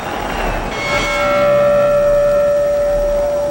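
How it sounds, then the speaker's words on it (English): A boxing match's final bell rings once with a clear, sustained metallic tone, loud and close, then lingers over steady crowd noise in the arena. "there it is, the final bell of what we consider a very fine fight"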